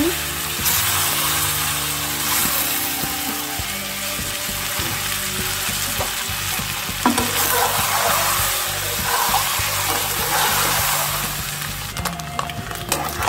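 Hilsa fish roe fries in a pan, giving off a loud, continuous close sizzle with occasional stirring and scraping sounds, heard alone without talk.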